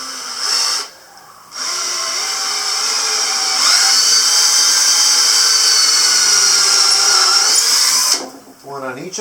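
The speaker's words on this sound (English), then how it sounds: "And I'm going to put a screw through here as well." A power drill drives a 4-inch screw into a 2x board for a door entry awning, whining steadily for several seconds with a short pause and restart, loud and close, then cutting off at the end.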